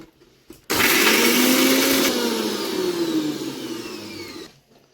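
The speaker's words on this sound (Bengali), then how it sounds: "তো আমি এগুলো মিক্সিতে ভালো করে বেটে নিলাম" A kitchen mixer grinder whirs loudly as it blends onion and ginger into a paste. The motor starts abruptly after brief quiet, drones steadily with slight pitch shifts, then stops, and no one speaks.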